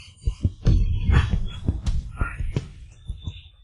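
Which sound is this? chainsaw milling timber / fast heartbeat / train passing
fast heartbeat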